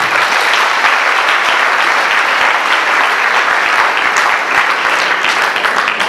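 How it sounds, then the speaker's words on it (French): A congregation applauds during a celebration marking the fiftieth anniversary of the diocese of Jérémie: steady, dense clapping from a large crowd, loud and sustained throughout with no talk over it. "invitez-nous à applaudir"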